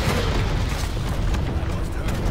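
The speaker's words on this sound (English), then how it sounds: "Airstrike. Airstrike's over." Airstrike explosion in the video game Tom Clancy's Elite Squad, heard as a continuous, loud, low rumbling boom that sustains without a break and fills the whole stretch.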